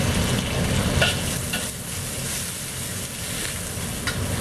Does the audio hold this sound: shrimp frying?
yes